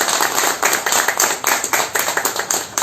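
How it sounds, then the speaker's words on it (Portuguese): An audience applauds at a railway book launch honouring railway workers, giving a dense, steady burst of many hands clapping close by with rhythmic swells throughout. "uma salva de palmas a todos os ferroviários que escreveram a história"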